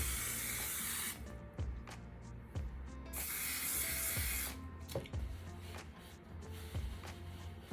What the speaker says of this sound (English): This is such a fine mist that all you have to do is just hold up your hair. You want to spray it from your mids to your ends